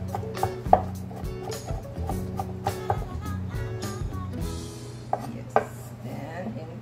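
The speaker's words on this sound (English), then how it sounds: "ginger and chop it" Ginger being chopped with a knife for oyster ceviche, a quick run of close, sharp knife taps on a board in an uneven rhythm, with faint background hum.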